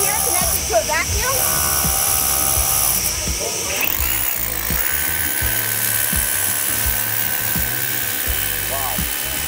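An SDS hammer drill bores with a vacuum dust-extraction attachment slid over a bit of up to 5/8 inch, giving a loud, continuous motor whine and grinding rattle with a steady hum beneath, close by for the whole stretch.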